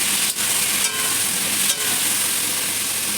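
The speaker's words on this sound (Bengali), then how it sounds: "নেড়ে এগুলো নাড়ছি ভালো করে।" Ridge gourd pieces frying in oil, a loud continuous sizzle close up with a few brief stirring scrapes breaking through, no talking.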